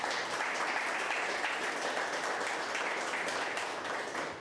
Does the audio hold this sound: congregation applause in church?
yes